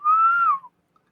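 A human voice imitates a low, worried droid whistle for the character Ello in a Star Wars role-playing game, a single smooth tone of about half a second that rises slightly then falls away, close and clear against silence.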